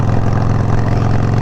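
A Harley Sportster fitted with Vance & Hines Mini Grenades exhaust runs at a steady idle, a deep, throaty, continuous grumble, loud and close.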